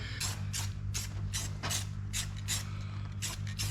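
Rhythmic back-and-forth rasping as a seal surface on a Chevy V8 engine is scrubbed clean and polished, about a dozen quick strokes over a steady low hum, close and even.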